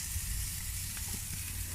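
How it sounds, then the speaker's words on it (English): Pork chops with scored fatty sides sizzle steadily on a barbecue grill, a continuous close hiss with faint crackles and no talking. "Just listen to that sizzle."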